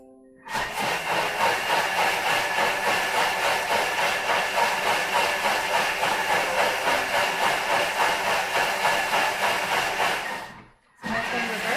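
A Thermomix on its quick-clean cycle spins at turbo speed, giving a loud, steady roaring whir with a fast pulsing flutter that runs for about ten seconds, then cuts out briefly before starting up again.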